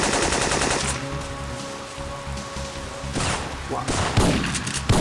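Enemy gunfire in the Syphon Filter video game, a dense rattle of automatic shots with broadband bursts that surge again toward the end, steady and fairly loud throughout.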